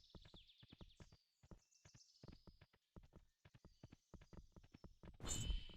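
Hooves clip-clop steadily in Kingdom: New Lands as a horse walks, a quiet, even rhythm of light hoofbeats with a brighter chiming tone above, ending in a brief louder burst.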